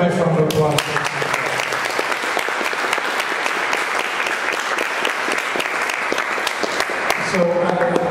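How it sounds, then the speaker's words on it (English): Audience applause at a teen leadership council event in a State House, a dense, sustained wash of many hands clapping that fills the whole stretch, with a voice briefly audible at the start and again near the end. "how about a nice round of applause?"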